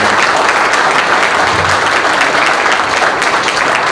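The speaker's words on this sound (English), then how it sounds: "it is deserving of a massive round of applause for Brian White." Loud, sustained applause from a large crowd at a stadium naming ceremony at Florida Atlantic University, dense clapping continuing without a break.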